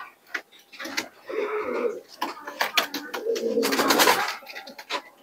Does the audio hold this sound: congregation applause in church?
no